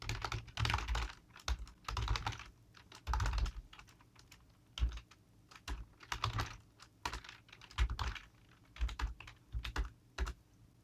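Bursts of rapid clicking keystrokes on a computer keyboard as code is typed for a CAN bus data logger writing to an SD card, close and fairly quiet, with short pauses between runs of typing and no talking.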